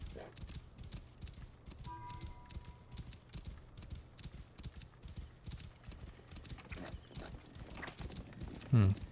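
Horse hooves clip-clop in a steady trotting rhythm in the Assassin's Creed video game, continuous and fairly close, with a brief neigh near the end.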